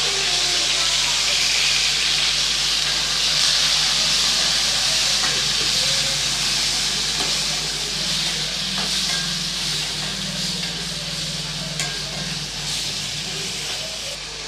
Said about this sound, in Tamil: நல்லா பழமான தக்காளி எடுத்து கட் பண்ணி வச்சுருக்கேன் அதை இது கூட சேர்த்து வதக்கிக்கலாம்